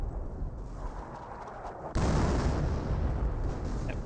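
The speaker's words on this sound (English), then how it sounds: "Now we do have M2 barraging the base." M2 artillery barrage pounding a base in Company of Heroes, a steady rumbling roar of shelling that swells sharply louder about halfway through and stays heavy to the end, with no talk.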